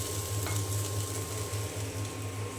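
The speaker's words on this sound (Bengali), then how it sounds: "এইখানে এই যে আলু ভাজিটা হচ্ছে, আমি একদম সুন্দর ঝরঝরা করে কিন্তু ভেজে নেব" Potatoes frying in a pan, a soft steady sizzle with a low hum underneath, faint and continuous with no voices.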